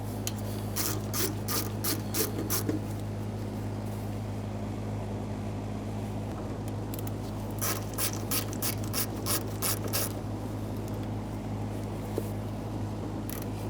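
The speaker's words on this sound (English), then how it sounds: "We'll use our Phillips head screwdriver on these" Phillips screwdriver backing screws out of the fuel tank cover on a 1992-1996 Toyota Camry, heard as repeated bursts of sharp ratcheting clicks with pauses between screws over a steady low hum.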